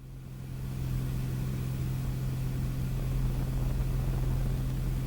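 Engine of a Sonex light aircraft in flight, a steady broadband drone with a low tonal hum that swells over the first second and then holds loud and constant.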